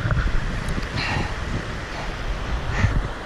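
Inflatable raft riding down a rough Newfoundland brook, a steady wash of rushing water and wind buffeting the microphone, with occasional splashes and knocks throughout.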